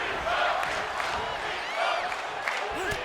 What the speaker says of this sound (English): Now starting the yes chants.